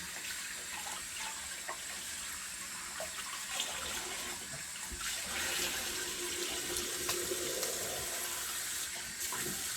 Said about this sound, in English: Rinse that off a little bit cold water.